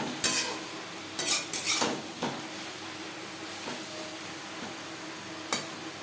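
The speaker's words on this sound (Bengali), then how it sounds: "লবণ হলুদ বেগুনের সাথে বেশ ভালো করে মিক্স করে দেবো" Eggplant being stirred with salt and turmeric in a pan, a few scraping, clattering stir strokes clustered early and one more near the end over a faint steady background, no talk.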